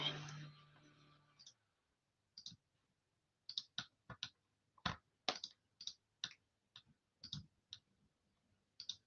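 Typing on a computer keyboard while working in design software: scattered, sharp, faint key clicks spaced irregularly over several seconds, following a short stretch of low background noise at the start, with no talking.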